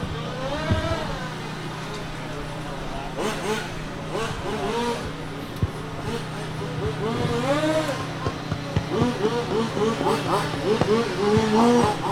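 Race cars at a charity benefit race drone and rev toward the finish line, their engine whines rising and falling through a constant mid-distance roar while an announcer talks over them.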